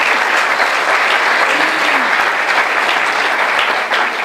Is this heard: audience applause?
yes